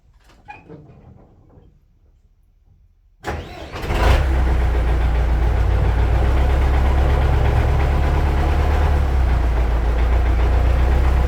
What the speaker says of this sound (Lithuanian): gal užkurtų tą traktorių